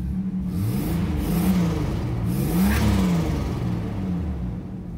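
A car engine revs up past 2,000 rpm and drops back, a loud, close, steady rumble with rising and falling whine, heard alone.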